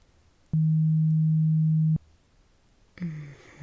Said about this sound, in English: let me know when you hear the first beep sound.